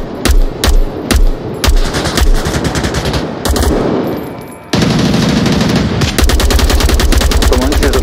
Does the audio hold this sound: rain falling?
no